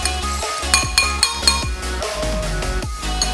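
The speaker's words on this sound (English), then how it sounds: "Then we're gonna take a fork, pop both with yolks, and whisk." A fork whisks eggs in a bowl with quick, rhythmic clinks against the side, near and fairly loud, ringing metallic taps in a steady run under background music.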